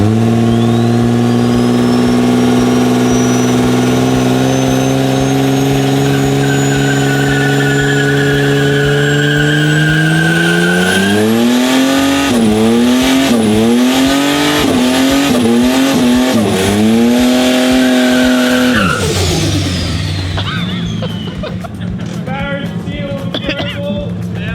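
Turbocharged Holden VL wagon engine revs up through the gears, loud and close, with rising pitch sweeps, brief drops at each shift, and a sudden cutoff into rough rattling near the end.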